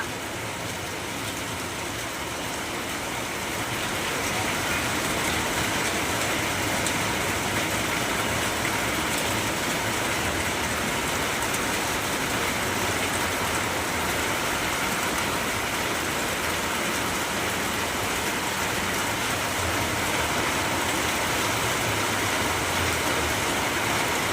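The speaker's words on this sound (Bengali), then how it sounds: "প্রচুর বৃষ্টি হচ্ছে" Heavy rain pours down steadily outside a house, a dense, continuous hiss that holds at an even loudness throughout with no voices.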